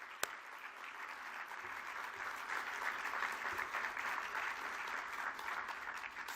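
A crowd at the closing ceremony of the 2015 IHF Congress in Chicago claps steadily, a dense, sustained round of applause that swells slightly and continues throughout.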